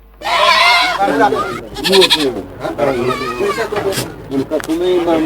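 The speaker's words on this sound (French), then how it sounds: "Nous sommes bien au marché de bétail à Bossimé. On y trouve des bêtes de tout genre. Chèvres, moutons et bœufs" Goats bleat loudly and repeatedly at a livestock market in Bossimé, where sheep and cattle are also sold, with wavering cries overlapping one another close by and crowd noise in the background.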